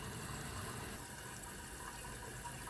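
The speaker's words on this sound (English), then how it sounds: "The water is now flowing over the top of the flush valve" Water pours steadily over the top of the flush valve inside the tank of a 2015 Kohler Cimarron one-piece toilet, a faint continuous rushing and trickling with no voices.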